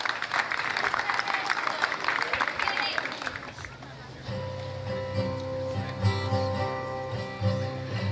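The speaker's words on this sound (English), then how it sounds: "So let's give a nice round of applause to Katie Hake" A talent show audience claps and cheers loudly for the first few seconds, then the applause fades as music begins.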